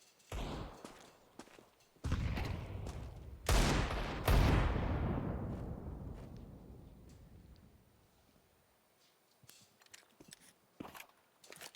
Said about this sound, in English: Multiple deagles, that grenade.